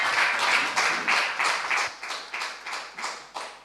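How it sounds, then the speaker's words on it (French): A church congregation claps rhythmically and cheers to welcome a speaker, a steady loud wave of hand claps pulsing about twice per second with a roomy, crowded texture and no talk over it. "Nous l'accueillons en acclamant bien fort."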